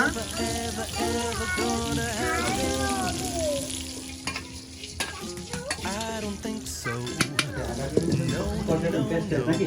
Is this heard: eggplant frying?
yes